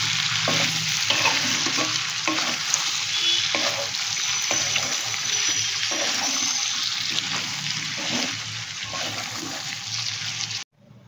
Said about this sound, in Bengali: এবার ভালো করে সব কিছু নেড়ে দিই, তাহলে আমার কড়াই চিকেন রেডি।